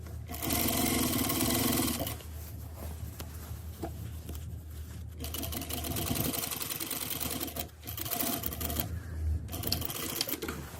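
A sewing machine runs in steady bursts while stitching along the old seam line of a trouser zipper, a loud continuous motor hum and needle rattle with a brief pause midway before resuming.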